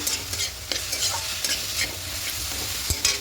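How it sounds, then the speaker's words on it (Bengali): Vegetables frying in a pan with salt and a pinch of turmeric, stirred by hand. Close, continuous sizzle with scraping stirs recurring every half second or so, no voices. "সামান্য একটু হলুদ গুঁড়ো দেবো। খুব ভালো করে মিশিয়ে নেব।"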